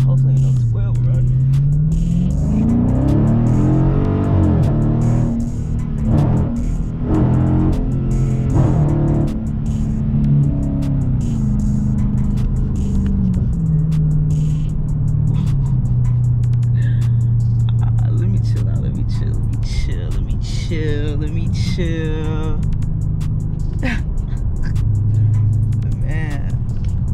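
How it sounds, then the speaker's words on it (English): A V8 car engine revs and pulls while driving, a loud low rumble rising and falling through the run, with someone talking over it throughout. "press the throttle a little bit, press the gas a little bit"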